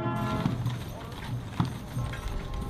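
Horse hooves clip-clop at an Army full honors funeral escort with a caisson and caparisoned horse, a few scattered hoof strikes heard over steady outdoor ambience and a narrating voice.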